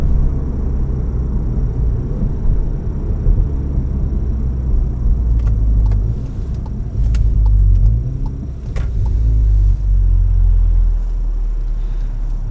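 Cabin of a Stage 2 Golf R with a catalyst downpipe cruising, a steady low engine and road rumble with no loud drone, plus faint clicks and bumps from inside the car.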